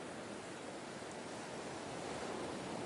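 Ocean waves heard as a continuous broad wash of surf, steady and moderately distant, with a faint wind-like hiss and no speech.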